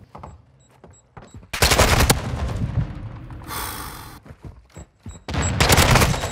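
Video game gunfire: several loud bursts of rapid automatic shots separated by short pauses and scattered single cracks, close and harsh.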